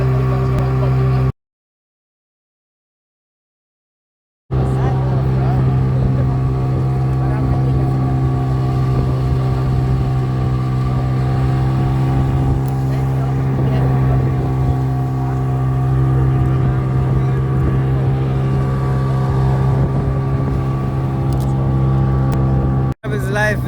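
A motorboat crossing a river toward South Bank in Gambia, its engine droning loud and continuous with a steady low hum, cut by a brief silent gap early on.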